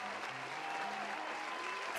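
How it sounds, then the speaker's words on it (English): A short burst of applause sound effect plays continuously, a dense even clatter of many clapping hands like a crowd cheering, with faint tonal sounds mixed beneath. "I'm gonna play the applause again."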